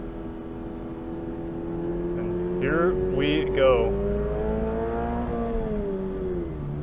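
A 2022 Toyota GR86 in track mode revs up close, its engine note climbing and falling in a steady rising drone, with a brief spoken line over it.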